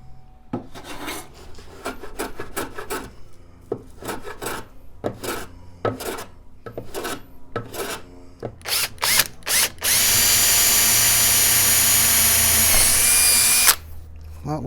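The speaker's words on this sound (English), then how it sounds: "I want to do that before I drill my hole in there." A power drill bores a hole through a chipboard shelf under repair: a run of close, rhythmic rasping strokes gives way to a loud, steady drilling whine lasting several seconds before it cuts off.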